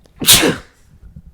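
A single loud, close human sneeze bursts out sharply and fades, followed by quiet low rumbles.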